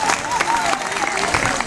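Audience applauding at a community festival committee's 60th anniversary meal, with dense, steady clapping from a room full of people that lasts throughout and is mixed with crowd noise.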